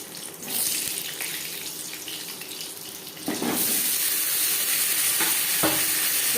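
Potatoes fry in oil with bay leaf and panch phoron, a bright, loud hiss that swells and then holds steady near the pan, broken by a couple of brief stirring scrapes, with no voices.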